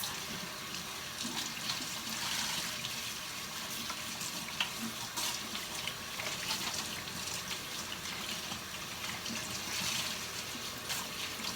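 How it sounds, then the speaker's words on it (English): Warm tap water runs steadily over dyed cross-stitch fabric in a sink, a constant splashing rush with small shifts as the cloth is moved under the stream. "and then I rinse the fabric with warm water"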